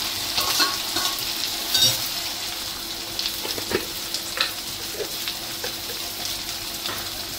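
Tomatoes with ginger-garlic paste sautéing in hot oil, a steady close sizzle broken by occasional scraping stirs, with no voices.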